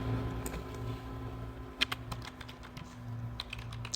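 Typing on a computer keyboard, a quick irregular run of light clicks and taps up close, with a few sharper key strikes, over a faint steady hum and no speech.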